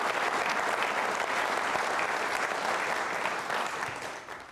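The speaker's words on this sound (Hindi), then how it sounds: "तालियां बजाइए आप सभी के लिए।" Applause from an audience of trainee state civil services officers at a quiz show, a sustained, even roar of many hands clapping that holds steady throughout and tapers only slightly at the end.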